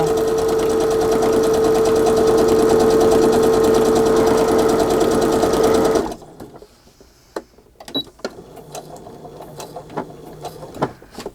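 A sewing machine runs steadily for about six seconds, loud and close with a whirring hum while stitching thread around words on a paper journal page, then stops, leaving faint clicks and handling noises.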